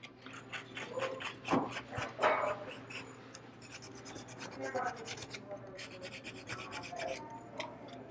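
Scuffing the surface of a 1/4 scale custom Morbius model kit by hand, irregular soft rubbing and rasping strokes up close, with no talking.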